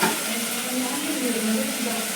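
Cauliflower frying in a pan, a continuous dense sizzle and hiss held steady at close range, with faint voices murmuring underneath.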